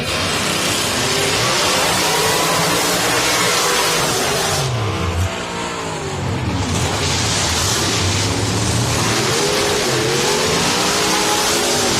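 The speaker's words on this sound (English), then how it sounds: "Sound in pro-modified drag racing, that of a supercharger on alcohol" A supercharged, alcohol-fuelled pro-mod drag car, Jim Brozovich's 1990 Chevrolet Beretta, roars loud and continuous, its engine note rising and falling through revs. Heavy crowd and track noise surrounds it, with no talk.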